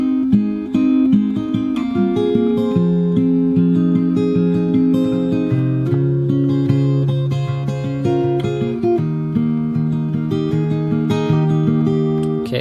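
Fingerstyle acoustic guitar plays the first verse of a song: a steady flow of plucked bass notes and melody, close and clear, with no voices.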